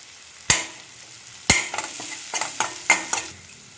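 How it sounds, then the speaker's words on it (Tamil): Turmeric stirred into tomato masala frying in oil for hotel-style poori masala: two sharp spoon scrapes, then a quicker cluster of scraping strokes against the pan over a faint background sizzle. "மஞ்சள் ஆட் பண்ணி நல்லா மிக்ஸ் பண்ணியாச்சு."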